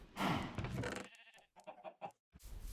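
Sheep in a Minecraft farm pen bleat several times in short wavering calls, close and clear, with brief pauses between them.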